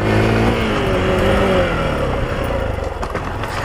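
A motorcycle carrying a box on the rear rack labors along a rough dirt road in rural Minas Gerais, Brazil, its engine droning steadily and close, with pitch rising and falling, then easing off near the end.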